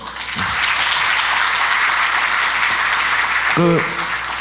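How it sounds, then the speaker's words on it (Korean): Keynote audience at a Red Hat Forum gives a big round of applause for the sponsor partners, steady loud clapping filling the hall, with a brief voice near the end. "이 스폰서 파트너분들한테 큰 박수 한번 주시죠"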